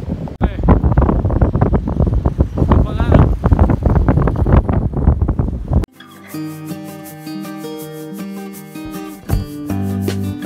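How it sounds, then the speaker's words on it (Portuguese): A strong wind buffets the microphone with a loud, continuous roar during a road trip, then cuts off abruptly and gives way to music. "Caramba, o vento tão forte."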